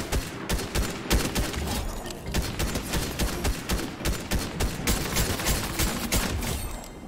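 Rapid bursts of gunfire from Fortnite Chapter 3 weapons crackle close and loud in dense, repeated volleys with brief gaps between strings of shots.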